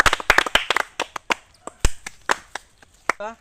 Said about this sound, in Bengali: জোরে হাততালি দিয়ে উৎসাহিত করো